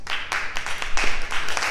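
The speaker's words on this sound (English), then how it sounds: "Give the Lord a big hand clap." A church congregation claps together in sharp, broadband bursts, loud and near, with a roughly regular rhythm over a short burst.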